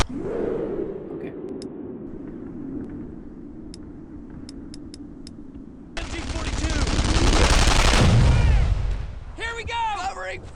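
Gunfire in the World War II shooter Brothers In Arms: Earned In Blood, escorting a tank destroyer through St Sauveur: a low rumble with sparse sharp cracks, then a loud dense volley of rapid shots swelling and fading, with shouted voices at the end.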